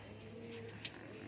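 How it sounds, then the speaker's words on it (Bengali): Fancy pigeons, Lahori and fantail breeds, coo softly in a loft, a faint low murmuring call under quiet background hum with a small tap near the end. "পায়রা রয়েছে, থাকে থাকে পায়রা রয়েছে।"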